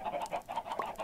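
Clucking chickens in Minecraft, played with the Pixelmon mod, come in a steady run of close, bright clucks with no talk over them.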